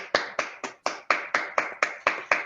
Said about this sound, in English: there are only 6 of us clapping online that we can hear